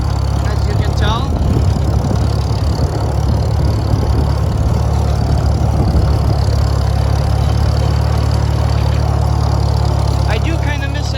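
A tractor engine runs steadily at close range while it pulls a hay rake across a field. The low, droning rumble stays constant throughout, with faint extra noise layered over it.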